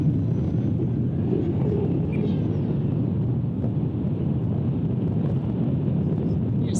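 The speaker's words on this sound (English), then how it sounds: "There's a lot of wind." Strong gusty wind roars steadily against the microphone at an outdoor flying field during a high-wind test flight of a Rebel 70 model jet, a dense rumble filling the whole stretch with no pause.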